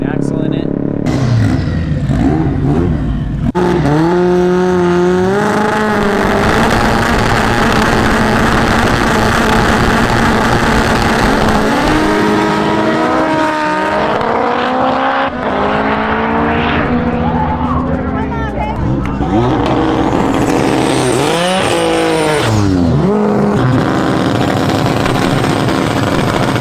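An all-wheel-drive car racing at the track: a loud, sustained engine roar that climbs in pitch through repeated gear changes, with surges and drops as it accelerates hard.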